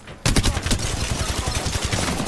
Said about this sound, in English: Bomb pods are shooting at me.